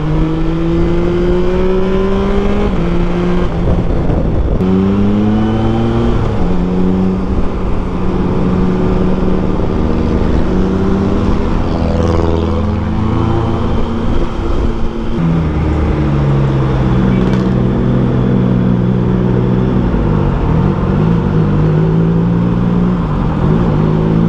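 A Triumph Tiger Sport 660 motorcycle fitted with side panniers rides through traffic, its engine rising and falling steadily through repeated throttle blips and gear changes, loud and close, with wind rush and passing vehicles around it.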